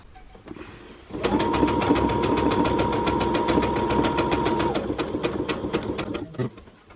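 A sewing machine stitches knit fabric, a fast, steady mechanical whirr and rhythmic clatter that starts abruptly, runs for about four seconds and then slows to a stop, close up.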